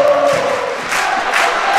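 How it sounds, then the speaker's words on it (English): An ice hockey crowd at the Braehead Arena in Glasgow stands and applauds after a goal, a loud, dense wash of clapping and cheering that fills the arena for the whole moment. "The Brayhead Arena is on its feet to applaud"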